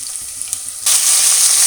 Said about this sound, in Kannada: ಎಲ್ಲ ತರಕಾರಿ ಹಾಕ್ಕೊಂಡು ಎಣ್ಣೆಯಲ್ಲಿ ಚೆನ್ನಾಗಿ ಫ್ರೈ ಮಾಡ್ಕೊಳ್ಬೇಕು.